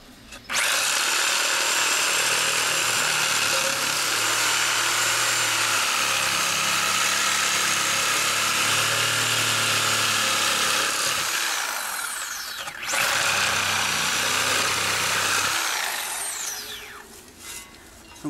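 A power saw fitted with a wood blade whines loudly and steadily as it cuts, briefly stopping and restarting near the end, with a grinding rasp throughout.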